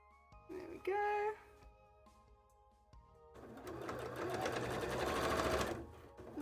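A sewing machine runs steadily for a few seconds, stitching a cosplay tail around tight corners, after a brief earlier burst and quiet handling.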